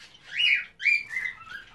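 Fischer's lovebirds and rosy-faced lovebirds chirp in a few bright, close calls, two longer bursts followed by shorter trailing chirps, with no talk.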